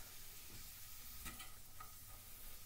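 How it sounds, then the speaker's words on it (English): Ribbons of courgette pappardelle frying in olive oil in a pan, a soft steady sizzle with a few light scrapes and taps as a fork stirs through them, no voices. "What we want to do is just use a fork to make sure that everything's nice and hot."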